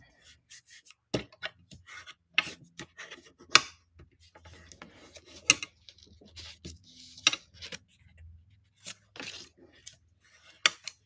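Paper being scored on each side with a tool to fold into a small box: intermittent dry scraping and scratching strokes with sharp taps between them, close and fairly quiet, with no talking.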